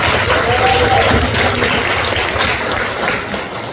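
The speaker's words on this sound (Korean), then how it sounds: "그래서 박수를 한번 쳐드려볼게요." An audience at a motivational business event claps steadily, a dense loud patter of hands that eases slightly toward the end, with some voices mixed in beneath.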